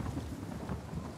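Thunder rolls and rumbles through a rainy storm in the video game Uncharted 4, a steady low roar with rain hissing on top, loud and continuous with no voices.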